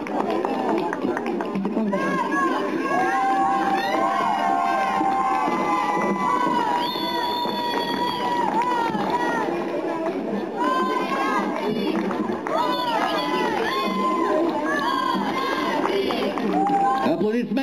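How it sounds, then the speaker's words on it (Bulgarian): A crowd at a folk dance awards ceremony in Balchik applauds and cheers loudly and steadily, with children shouting and voices mixed into the continuous roar. "Аплодисменти!"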